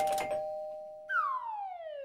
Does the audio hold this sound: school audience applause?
no